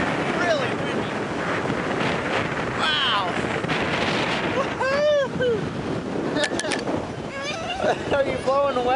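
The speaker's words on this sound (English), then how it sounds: "Yikes, it's crazy windy out here." Strong outdoor wind roars steadily across the microphone as a constant loud rush, with a mailman nearby, while several voices talk and exclaim over the gusts.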